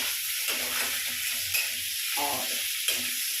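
Boiled, tender bamboo shoots frying in a pan, a steady close sizzle with intermittent stirring scrapes over it and no talking.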